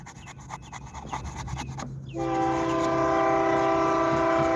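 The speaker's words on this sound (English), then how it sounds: "Oh, I hear a train." A loud train horn blares and holds steady as a train rolls by nearby in Stephenville, Texas, after a stretch of rumbling rail noise and rhythmic clatter.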